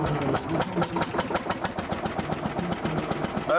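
An old vintage tractor engine runs close by with a rapid, even chugging beat that holds steady throughout, with no talk over it.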